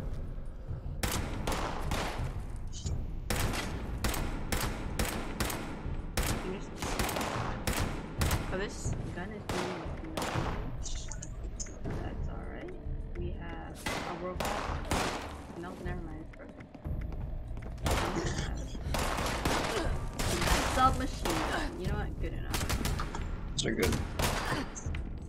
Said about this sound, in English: Oh, this is a silent shotgun?